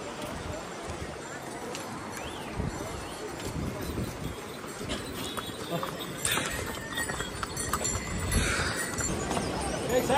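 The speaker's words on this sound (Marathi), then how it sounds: "पण घोडे जाम तिकडे" Horses' hooves clip-clop along the Yamunotri trek trail in the Himalayan mountains, a steady nearby clatter that grows louder toward the end, under continuous conversation between people walking, with a river audible below.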